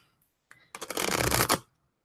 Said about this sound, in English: split it in half, shuffle it, and then shuffle the other half